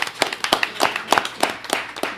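A small audience at a board of trustees meeting claps with scattered, uneven hand claps for about two seconds, fairly close and moderately loud, with no talking over it.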